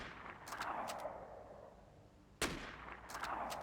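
Video game gunfire with a few sharp single shots spaced apart, one loud crack standing out near the end over a low steady background.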